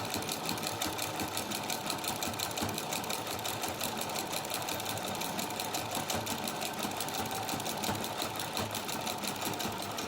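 A sewing machine runs steadily and continuously at close range, its rapid mechanical stitching buzz dominating with no voices heard.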